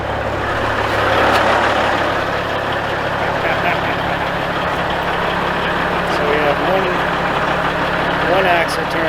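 A truck engine sitting at low idle in gear, a loud, steady low rumble that holds even throughout, with someone talking over it.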